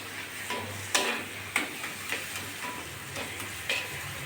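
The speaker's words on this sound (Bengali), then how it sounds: "মাঝে মধ্যে এই যে আস্তে আস্তে এসে নাড়াচাড়া দিতে হবে যাতে কলে ধরে না যায়" Mango and taro leaf bharta stirred while frying in a pan, giving a steady soft sizzle with sharp ticking scrapes of the spoon against the pan every half second or so.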